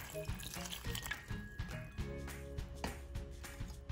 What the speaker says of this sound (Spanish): Acá solo le voy a estar poniendo una taza de agua.